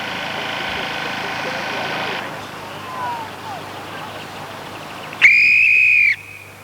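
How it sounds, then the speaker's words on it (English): A referee's whistle blown to start an angling match at a fishing club open day, one loud, shrill, sustained blast near the end. Outdoor background noise runs before it, and someone speaks over part of the clip. "blows the whistle there for the start of the All-Star afternoon match"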